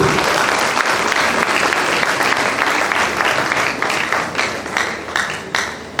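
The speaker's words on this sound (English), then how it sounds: "With a resounding applause, I want you to appreciate Professor Latif Bakri." Sustained, loud applause from a large audience at a pharmacy induction and oath-taking ceremony, a dense wash of clapping throughout that thins slightly toward the end.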